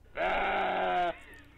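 A goat gives a single close, loud bleat, a sustained nasal wavering cry of about one second that stops abruptly, leaving quiet.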